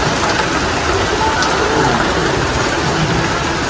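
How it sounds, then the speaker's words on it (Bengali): Heavy rain pours down in a steady, dense hiss that stays loud and unbroken throughout, with no voices. "আর বৃষ্টি হচ্ছে, দেখুন বন্ধুরা কেমন বৃষ্টি হচ্ছে, কি আনন্দ।"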